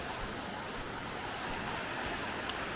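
Broad steady rush of river water flowing past a small beach in the New River Gorge, West Virginia, a continuous even wash with no voices.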